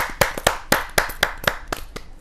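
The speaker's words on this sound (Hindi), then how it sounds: "जोरदार ताली के साथ राकेश रतन जी का स्वागत है।" Scattered hand claps from an audience greeting a poet on stage at a kavi sammelan, about nine sharp claps spaced fairly evenly, thin and close rather than a full roar of applause.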